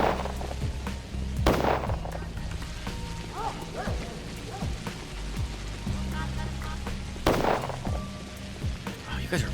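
Enemy gunfire in the video game Pathologic, with two loud sharp shot bursts near 1.5 and 7.3 seconds over a steady droning game soundscape, with other scattered pops and clicks between.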